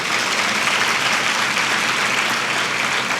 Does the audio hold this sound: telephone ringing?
no